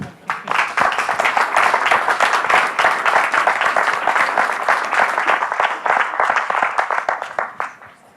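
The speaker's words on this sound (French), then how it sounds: "Je pense qu'on peut les applaudir." An audience applauds steadily for several seconds at a French-language presentation event, dense clapping from many hands that fades out at the end.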